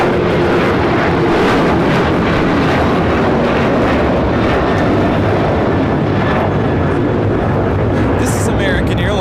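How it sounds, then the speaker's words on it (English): American Airlines Boeing 737-800 taking off at LAX for Nashville, a loud continuous jet engine roar heard from close range, steady and broad throughout, with a brief voice near the end. "This is American Airlines 1292 taking off to Nashville, Tennessee on the 737-800"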